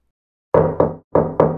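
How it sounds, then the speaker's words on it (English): Heavy, hollow metallic pounding on a heavily rusted steel door: four loud, close blows in two quick pairs with a short pause between them, each ringing briefly. "After pounding on the door 4 times in pairs of 2"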